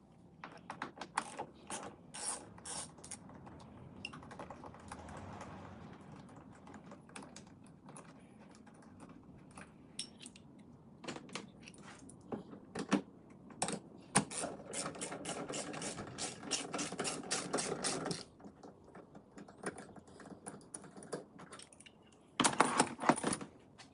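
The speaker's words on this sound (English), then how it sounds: "I use the Torx T30 and remove 2 bolts" A Torx T30 driver works bolts loose on a Ford Fiesta Mk7 headlight, with close, rapid ratcheting clicks in bursts and occasional metallic clinks, no talking.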